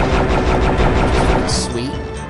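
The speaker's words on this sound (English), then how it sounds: "it shoots slower, but it, like, shoots out a bigger ball" Weapon firing in the Heretic first-person shooter game, a rapid, dense run of loud repeated shots filling the clip, with faint game sounds underneath.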